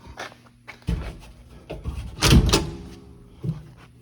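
A household door is opened during a Sunday afternoon DIY job, giving a series of wooden knocks, clunks and a louder rattling burst close by, with faint movement between them.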